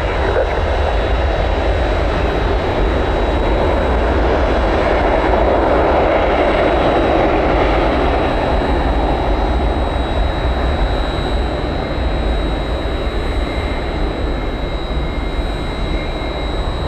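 A jet airliner roars loudly and continuously while taking off from runway 1 right at Tampa airport, a broad sustained engine rumble with a steady whine heard up close throughout.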